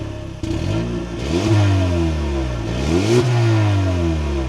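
A 2025 Hyundai Sonata N-Line starts with a quick crank and fires up, then revs twice in rising and falling sweeps before settling, heard close and loud with no talking.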